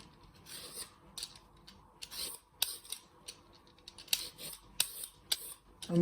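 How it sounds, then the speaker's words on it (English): A peeler scraping the skin off a turnip in a kitchen, a run of short, quiet rasping strokes repeating at an irregular rhythm, close up. "You first chop your ends off. And you want to peel all the skin off."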